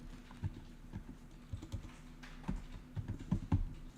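Quiet, close typing on a computer keyboard, irregular clusters of light key taps with short pauses, as a user enters cell formatting in an Excel spreadsheet.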